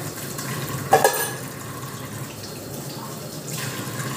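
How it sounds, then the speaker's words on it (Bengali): Tea cups and plates are washed under a kitchen tap, with running water hissing steadily and a brief clatter of crockery near the start, close by and moderately loud. "সেই চায়ের কাপ প্লেটগুলো রাখা আছে, আমি একটু পরিষ্কার করে ধুয়ে নিই"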